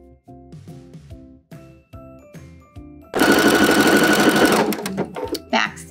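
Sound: sewing machine stitching a bikini top's fabric casing

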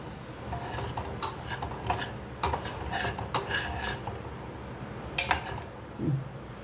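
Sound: sesame seeds crackling while dry roasting with peanuts

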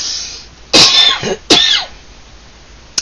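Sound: cough

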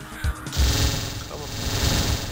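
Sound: Vulcan cannon firing in video game Descent

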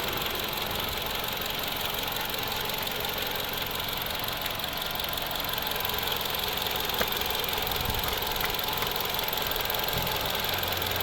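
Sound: Toyota Camry 2.5 petrol/gas engine idling

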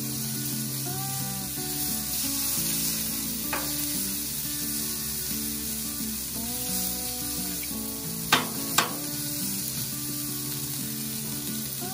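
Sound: coleslaw sizzling on a Blackstone griddle

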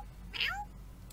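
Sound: kitten meowing in the video game Mew Sim

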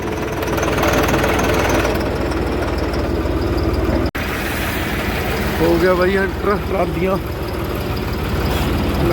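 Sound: tractor engine idling in sugar mill queue

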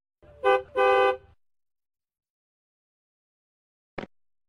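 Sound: taxi car horn honking in cartoon

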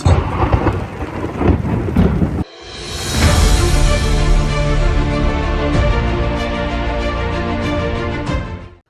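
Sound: heavy rain

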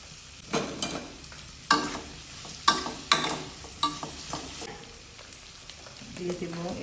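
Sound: small shrimp frying in oil with Malabar spinach

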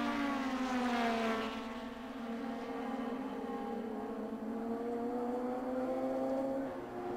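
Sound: race cars approaching final corner, Fuji Grand Champion Series

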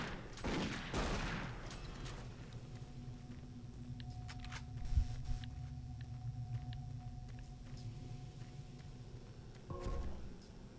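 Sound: gunfire in the video game Doom 3

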